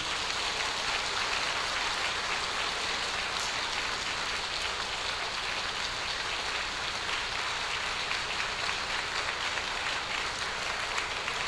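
A church congregation gives a long, sustained round of welcoming applause for a pastor at a Sunday service, a dense, even wash of many hands clapping that holds steady throughout.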